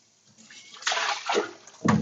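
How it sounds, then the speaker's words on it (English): Fresh noodles are scrubbed by hand in a bowl of water to wash off starch, giving short, close bursts of sloshing and splashing with brief pauses between. "you want to actually scrub the noodles to remove the starch"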